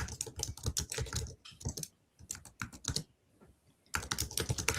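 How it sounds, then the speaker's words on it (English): Rapid clicking keystrokes on a computer keyboard, typed in quick bursts separated by short pauses, close and crisp with no talking. "I hope I am typing it correctly."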